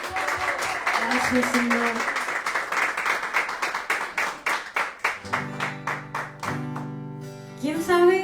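A church congregation claps in a brisk rhythmic burst that thins into scattered claps, while someone speaks and a few voices rise over the fading applause.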